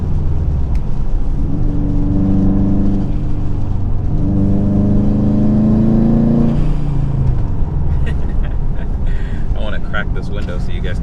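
A Subaru WRX STI with a modified engine drones and rises in revs while driving, a steady loud exhaust note climbing and falling from inside the car as a window opens.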